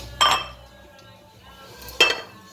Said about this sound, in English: I'm just going to put this stuff, all my bits and pieces, into a bowl